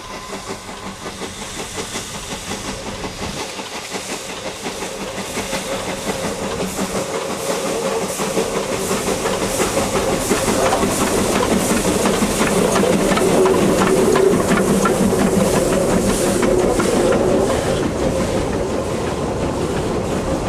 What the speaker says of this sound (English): Number 143 returns, making for a magnificent sight climbing past us with Llyn Gwernol in the background.